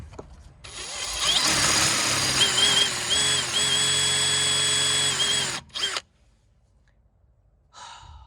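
A power drill whirs loudly and steadily for about five seconds while working on a Corsa D VXR brake job, its pitch dipping under load, then cuts off abruptly, leaving near silence with a faint rustle.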